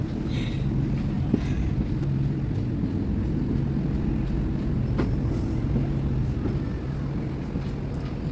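Inside a moving passenger train, a steady low rumble of wheels and carriage runs on at a constant level, with faint rattles and clicks near the microphone and no talking.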